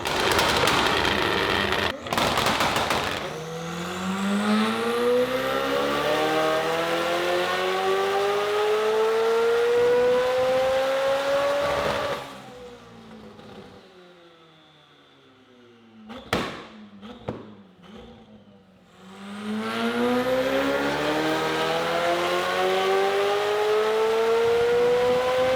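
A loud Porsche GT3 with a freshly built engine revs hard twice, each pull climbing steeply in pitch with a harsh, raspy tone, separated by a quiet gap with a few sharp pops and clicks.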